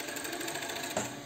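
A sewing machine runs in a fast, steady stitching patter, sewing elastic onto a pair of beach panties, close and moderately quiet for a short burst.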